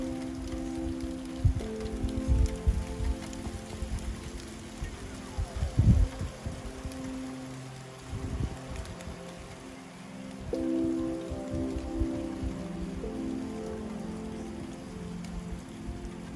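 Rain falls around a cabin in the forest, a steady pattering on surfaces with heavier drips, mixed with low rumbling background noise.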